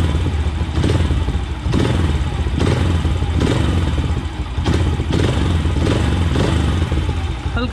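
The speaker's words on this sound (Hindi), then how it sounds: "अब मैंने इसको हल्का सा एक्सीलेटर दे के देखना है एकदम से।" A motorcycle engine with a freshly adjusted carburetor idle mixture screw is blipped with the throttle, revving loudly and steadily with repeated surges and mechanical clatter, close by and alone, with no talking.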